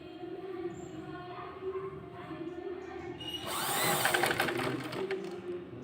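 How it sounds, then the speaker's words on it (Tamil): A sewing machine stitches a curved fabric seam during tailoring, its steady mechanical whir rising louder partway through over a low background hum. "பாருங்கள், இந்த வளைவான பகுதியில் நான் தைக்க போகிறேன்."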